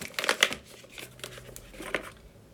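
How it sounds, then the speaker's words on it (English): Tarot cards being shuffled by hand, giving soft papery riffles and rustles in short bursts at close range, with no talking. "we're going to shuffle some cards"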